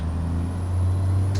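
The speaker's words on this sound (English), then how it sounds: "I thought I heard screaming brakes." In a truck-driving video game, a steady low vehicle rumble with a sustained hiss of a bus's air brakes, ending in a brief release puff.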